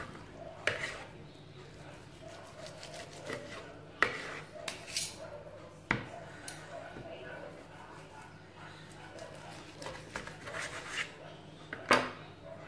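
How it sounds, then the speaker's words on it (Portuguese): A knife slices through a roast veal joint on a board, with scattered clicks, scrapes and taps of blade and dishes, quiet and close, under occasional talk in a home kitchen. "Agora eu tô cortando ela."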